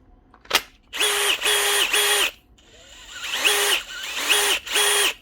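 A DeWalt DCD796 cordless drill whirs in repeated short bursts, trigger pulled and released about six times, each burst steady and close, with a brief click at the start.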